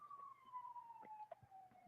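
A faint, distant emergency siren wails as a single drawn-out tone slowly falling in pitch, heard quietly behind a low hum and light background noises.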